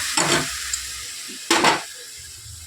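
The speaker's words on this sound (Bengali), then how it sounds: "গরম জলটা দিয়ে দেবো তরকারিটা" Hot water is poured into a spiced curry masala frying in oil, setting off three sharp hissing bursts of steam and sizzle, with quieter frying between them.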